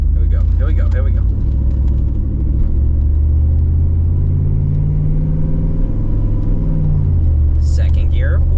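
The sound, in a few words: car with 4L65E transmission accelerating through gears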